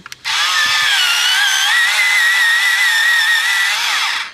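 Battery-powered pencil sharpener grinding a light aqua colored pencil, starting after a couple of small clicks and whirring steadily for about four seconds, then winding down.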